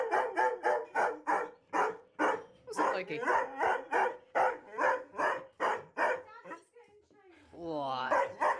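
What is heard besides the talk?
dog Loki barking in the Frog Detective video game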